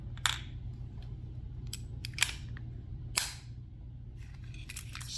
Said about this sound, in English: Drop the mag. This part's the easy part, just move that lever down.